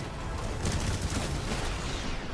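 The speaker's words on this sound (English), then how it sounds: "And only some gunshots to the side of the building." Gunfire in a video game with giant robots and time manipulation, a steady dense fusillade of shots off to the side of a building, continuous and fairly loud with no pauses.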